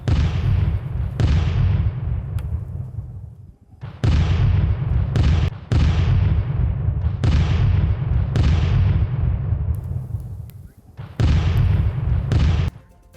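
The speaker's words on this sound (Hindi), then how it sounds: "हरफा और कफर इलाके में यह भीषण बमबारी हुई है" Airstrike bombardment hits the Harfa and Kafr area of Lebanon, with a series of heavy booms, each a sharp blast followed by a long rumbling decay, coming in irregular succession.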